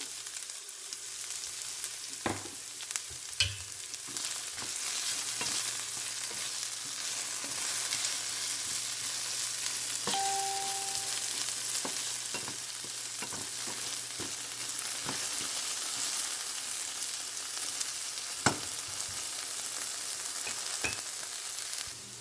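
Ladies finger (okra) sautéing in a pan gives off a soft, steady sizzle for a long stretch, broken by occasional utensil taps and a brief tonal clink, quiet and close with no talking.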